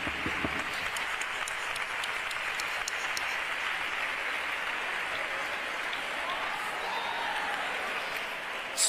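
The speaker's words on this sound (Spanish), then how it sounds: "así que para ello un fuerte aplauso" An audience at a carnival proclamation event in Córdoba gives strong, sustained applause for a youth chirigota group. The dense, even clapping keeps a steady level throughout.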